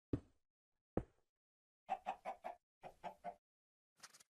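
A Minecraft chicken gives two soft taps and then two bursts of rapid clucking, each about three or four quick notes, heard clearly with no one talking.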